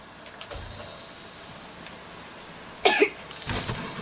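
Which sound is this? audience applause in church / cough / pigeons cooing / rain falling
cough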